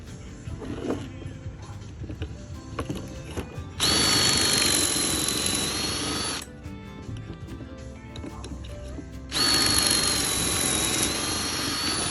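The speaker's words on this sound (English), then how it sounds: "Find your drill." A power drill whirs loudly in two sustained bursts, each lasting a few seconds, drilling pocket holes for a pop-up camper storage box rebuild, with quieter shop noise in between.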